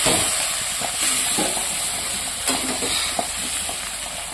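Spiced meat being sautéed in a pan sizzles steadily while a utensil stirs and scrapes it in irregular strokes, close and fairly loud, with no talking.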